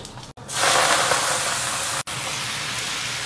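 Vegetables hit hot oil in a home kitchen with a loud, steady hiss of stir-frying that fills the whole clip, broken by two brief gaps, close and without talk.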